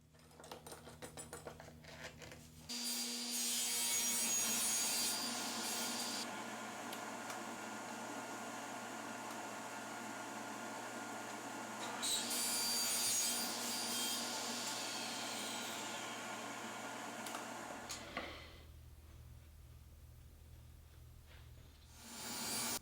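Table saw with a sled fitted with clamps, making a 45-degree cut in wood: the blade spins up loudly and runs steadily for about fifteen seconds, cutting with a rising whine, then winds down.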